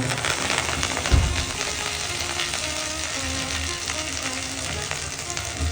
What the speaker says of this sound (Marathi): आपण थोडी कोथिंबीर पण तळून घेऊया